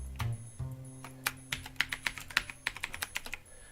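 Fast typing on a computer keyboard entering an administrator password, a run of crisp, close key clicks with a few heavier taps at the start, alone with no talk.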